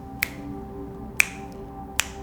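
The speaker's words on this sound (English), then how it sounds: "So I'm going to snap my fingers 3 times" Fingers snap three times, crisp isolated clicks spaced about a second apart, close and clear over a quiet room hum at the start of a meditation.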